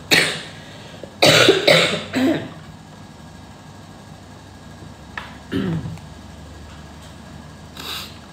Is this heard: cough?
yes